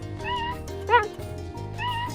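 Cheetah meowing: three short, high, bird-like chirping calls spread over two seconds, fairly faint and alone.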